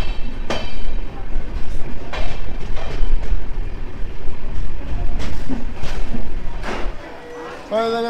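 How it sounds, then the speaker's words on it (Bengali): North East Express pulling into New Jalpaiguri station, a low steady rail rumble with periodic wheel clunks and squeals, fading toward the end while someone talks over it. "1 ঘন্টা 50 মিনিট দেরিতে আমাদের ট্রেন এখন ঢুকলো নিউ জলপাইগুড়িতে"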